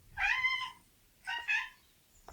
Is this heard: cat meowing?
yes